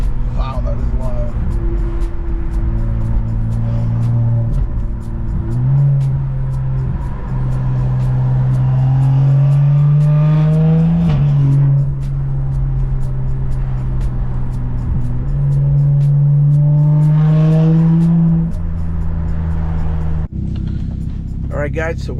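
A car with its muffler deleted drones with a deep, raw exhaust note that swells and falls through several revs, rising in pitch and settling back, loud and close throughout.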